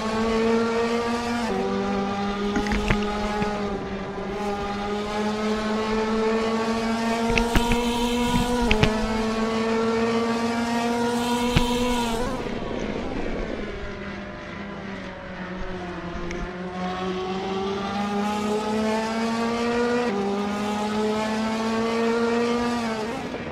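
Ferrari Challenge race cars roar away from the start at Barcelona in 2018. Several loud, high-revving engines rise and fall through the gears, layered over one another and holding close and steady throughout.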